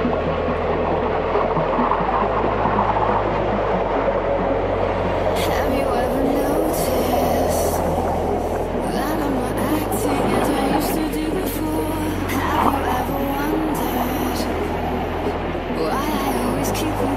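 A train passes nearby with a continuous low rumble and rolling wheel noise, joined by faint higher squeals and clatter, and a voice is heard over it in places.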